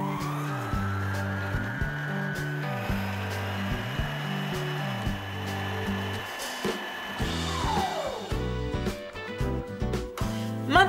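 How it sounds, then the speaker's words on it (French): A stand mixer with a whisk attachment runs at full speed whipping cane sugar, vanilla sugar, salt and egg for cookie dough, giving a steady close motor whine with a rhythmic pulsing beat that shifts in pitch near the end. "actionnez la planétaire à toute vitesse pendant 8 minutes"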